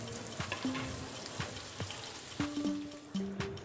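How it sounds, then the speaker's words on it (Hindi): Coarsely ground fried onion paste sizzles softly in hot oil in a pan while mutton rogan josh is cooked, with a few clinks and stirring sounds over the quiet frying. "अब हम इसमें ऐड करेंगे 2 मीडियम साइज़ की फ्राई की हुई प्याज"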